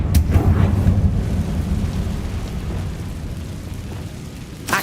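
A Confringo blasting spell explodes in Hogwarts Legacy with a deep, rumbling boom that rolls on and slowly fades over several seconds, with no talk over it.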